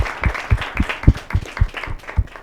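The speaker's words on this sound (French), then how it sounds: "On peut les applaudir" Audience clapping in a steady burst, many hands striking irregularly at a moderate, close level for a couple of seconds.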